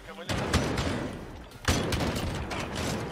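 Unsilenced guns firing in Call of Duty Warzone, a loud, dense barrage of rapid shots in two surges, close and continuous, with a voice talking under the shooting.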